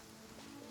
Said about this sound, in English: listening to the rain from the courtyard